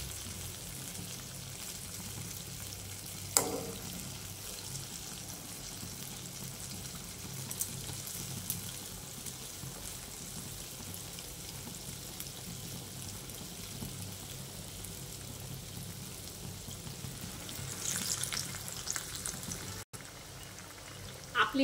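Medu vada, lentil fritters, frying in hot oil with a steady, even sizzle that runs the whole time, with a faint clink near the start and some louder bubbling toward the end.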